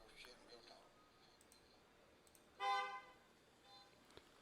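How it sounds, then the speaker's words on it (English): Traffic passing outside, cars and motorbikes, heard faint and distant, with one brief car horn toot standing out above a low background hum. "Cars going by, motorbikes going by."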